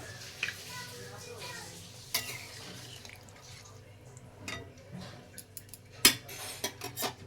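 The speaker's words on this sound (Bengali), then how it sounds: "ভালো করে নাড়িয়ে নেব।" A fish and potato curry with drumstick stems is stirred in a cooking pot, giving sparse, faint clinks of a utensil against metal and a few sharper knocks, with quiet wet sounds in between.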